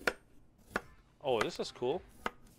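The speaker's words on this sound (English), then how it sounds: "Okay, chop the ingredients, cut, chop, and cut." A potato is chopped on a chopping board in a restaurant cooking simulator game, with a few crisp, evenly spaced knife thunks. A person speaks briefly over the middle of the chopping.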